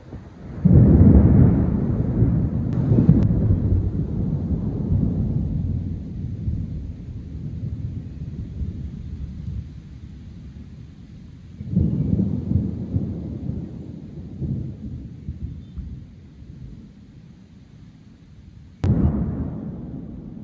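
Thunder rolls from thunderstorms with frequent lightning, three separate heavy rumbling peals that hit hard and then fade slowly, with quieter gaps between them and no talking.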